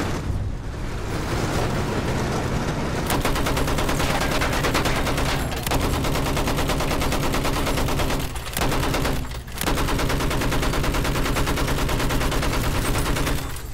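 Rapid automatic gunfire in Battlefield 1, dense and loud, continuous bursts with brief gaps, mixed with distant booms of battle, no talk.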